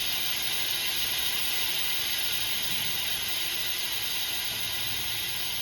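Steady broadband hiss from a boost leak at the supercharger outlet clamp on a SeaDoo 325 pressurized by a compressor, continuous and fairly loud throughout with no breaks.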